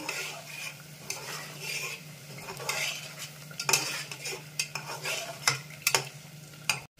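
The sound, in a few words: mutton curry masala being stirred and sautéed in pan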